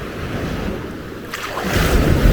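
Small waves wash onto a beach shore, heard close as a steady broadband rush with wind on the microphone, and a louder surge breaking near the end.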